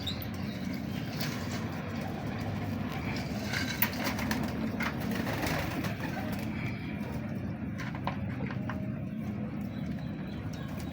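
A purebred pigeon coos softly and intermittently against a steady, dense background noise, with no talking.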